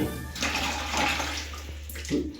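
Water splashing and pouring over aquarium stones as they are rinsed clean, a steady close wash of running water with brief surges.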